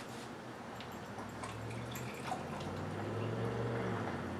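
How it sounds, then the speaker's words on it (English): A steady stream of hot water pouring into a cup for a hot grog, a soft continuous trickling with faint drips, close by, running the whole time without any talking. "I'm gonna add some hot water now."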